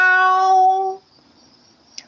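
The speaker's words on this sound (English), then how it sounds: "Meow!" A puppet-show cat gives a single drawn-out meow, close and loud for about a second, followed by near silence and a faint brief click.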